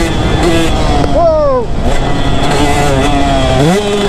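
A two-stroke motorcycle engine buzzes loudly and close, its pitch sweeping up and down in quick revs over a few seconds, with a rider's voice heard briefly.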